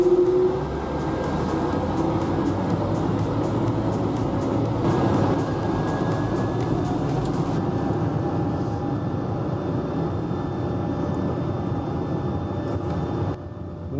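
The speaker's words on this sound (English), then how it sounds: "after de-icing, we slowly lined up on runway 18 and took off" An airBaltic Airbus A220 takes off from runway 18 after de-icing, heard from inside the cabin as a steady, heavy rumble and roar that holds for the whole stretch and eases slightly near the end. No one talks.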